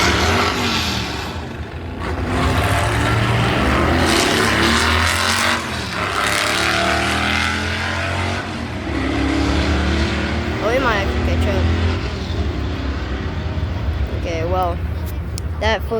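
Drag race between a fourth-generation Chevrolet Camaro and a Plymouth Duster at a car show, loud sustained engine roar with revving and passing rumble throughout, people talking over the noise.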